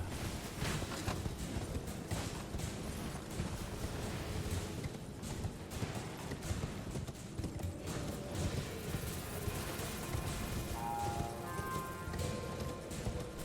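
Horse hooves gallop in a steady clip-clop rhythm in the video game Elden Ring, moderately close, under stormy wind and rain-like noise.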